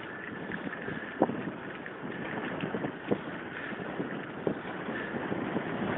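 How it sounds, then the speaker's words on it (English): Headwind rushes past while riding an old, rusty bike, a steady, muffled roar of wind noise with occasional soft thumps and bumps throughout, no voices. "So here we are going into a headwind now"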